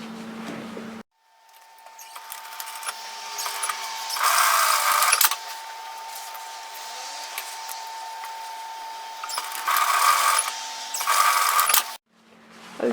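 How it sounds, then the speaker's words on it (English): A sewing machine stitching the shoulder seams of a tailored vest, a close whirring motor run that starts after a brief pause, with faster louder bursts as it speeds up and then stops, and no voices. "And now we're going to sew this together at 1 centimeter"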